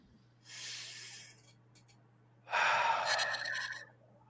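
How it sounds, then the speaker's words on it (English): Two deep breaths during a breathing exercise on a live sports debrief show, an airy inhale then a louder, longer exhale, close to the microphone over a faint steady hum. "Maybe just some more of those breathing techniques."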